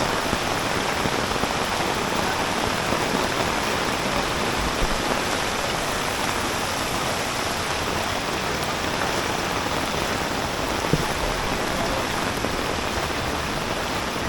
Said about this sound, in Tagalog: Bumuhos pa rin yung ulan.